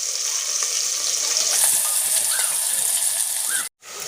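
Green chillies and onions fry in hot oil with a steady, bright sizzle and crackle, close up and continuous, briefly cutting out near the end before resuming.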